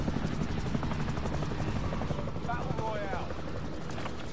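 A helicopter in Call of Duty Warzone gives a steady, close rotor thump and engine drone throughout, with brief faint game tones partway through.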